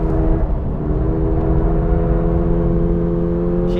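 Toyota GR86 or Subaru BRZ with an enlarged-displacement flat engine pulling hard on a racing circuit, a steady, loud droning engine note with strong low harmonics, heard from inside the car without pauses.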